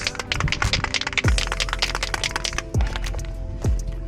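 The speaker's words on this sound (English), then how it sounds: "So give this thing a good shake" A spray paint can being shaken during refinishing work on a 1975 Volvo 245 16v Turbo, with a rapid rattle of the mixing ball clicking close and continuous for several seconds.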